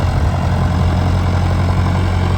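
A heavy tractor diesel engine idles nearby, a loud steady low rumble with a throbbing pulse throughout.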